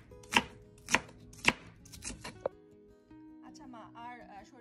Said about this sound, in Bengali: সরিষা ইলিশে কি পেঁয়াজ কেটে দিব নাকি ব্লেন্ড করে দিতে হয়